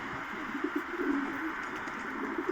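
Racing pigeons cooing on a rooftop, soft repeated low coos close by over a steady background hiss.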